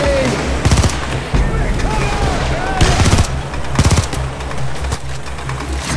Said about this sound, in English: It's hard to aim with the shotgun.